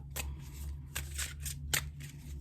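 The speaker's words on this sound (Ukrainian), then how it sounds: "Дивіться, як я тасую карти." Tarot cards are riffled and shuffled in three quick bursts over a steady low hum, close by and fairly quiet.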